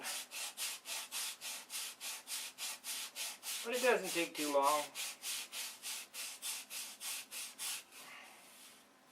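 Steady, rhythmic back-and-forth sanding on wood, close and continuous, with a brief spoken remark partway through.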